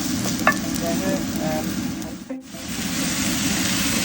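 Asparagus and nuts sautéing in a pan over low heat give a steady, even sizzle with light stirring scrapes, broken only by a brief pause near the middle.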